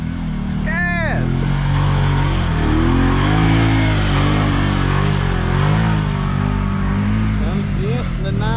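A side-by-side UTV on a Tennessee dirt trail, its engine roaring loud and close with rising revs as it accelerates, the drone holding throughout while a voice shouts briefly at the start.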